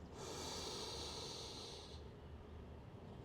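A deep yogic breath, a long airy exhale hissing softly for about two seconds and then fading into quiet room tone, heard close and alone.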